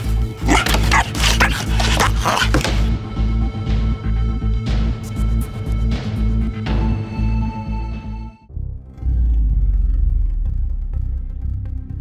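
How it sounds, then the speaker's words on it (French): Dutch Shepherd puppy barks loudly and rapidly in a close, insistent burst, pauses briefly, then resumes, with no speech in between. "Quand on croise un autre chien, elle aboie sur le chien."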